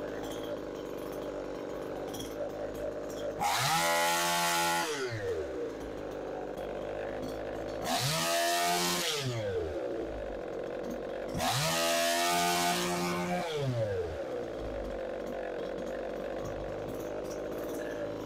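Husky 55 chainsaw with a high flow muffler mod, revved three times to a loud close roar with idle rumble between bursts, no talk.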